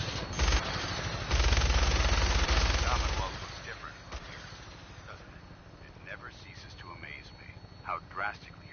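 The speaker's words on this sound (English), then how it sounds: "That minigun in front of you is loaded and ready to fire." A minigun mounted on a helicopter in Fallout 4 fires a loud, sustained rattling burst lasting about three seconds, then cuts off, leaving a quieter rumble with voices speaking afterward.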